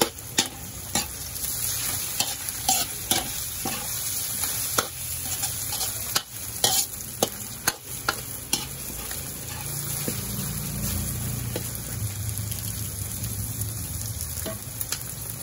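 Pork meat frying in a pan keeps up a steady sizzle, with repeated sharp scrapes and clacks from stirring scattered throughout.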